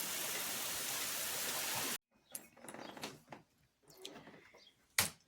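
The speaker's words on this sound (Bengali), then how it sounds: "এই যে বৃষ্টি শুরু হলো জোরে, দেখো।" Heavy rain falls during a tornado warning, a loud, dense roar of downpour close by. It cuts off abruptly after about two seconds, and scattered knocks and clatter follow.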